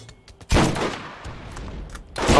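Gunfire in the Borderlands video game, a sharp loud burst followed by a rumbling decaying tail and another blast at the end.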